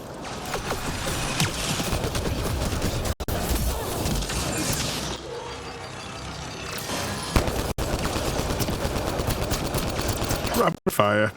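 Rapid automatic gunfire from Mass Effect: Andromeda combat, a dense, loud rattle of shots with mechanical clatter, broken by a few brief cutoffs, with game voices mixed in.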